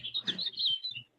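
Rapid bright chirps from a house finch, a short burst of tweeting notes close by with a faint low hum underneath.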